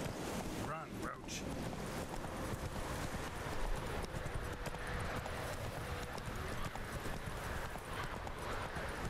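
Horse galloping in The Witcher 3 video game, a steady clip-clop of hooves under constant rushing wind and water noise, with speech audible early on.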